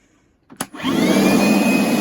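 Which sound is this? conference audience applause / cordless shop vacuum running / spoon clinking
cordless shop vacuum running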